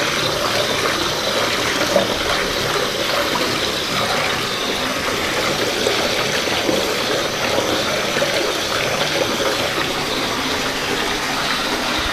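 Running water fills a bath, with a bubble bar added, as a steady, loud, broadband gush that holds unbroken for the whole stretch with no talk.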